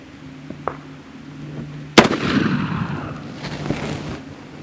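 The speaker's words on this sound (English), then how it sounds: "Here's our last shot." A single sharp, loud report from a Colt black powder revolver loaded with a conical bullet and about 28 grains of 3F Swiss powder, followed by a rolling echo that fades over a couple of seconds against a faint hum.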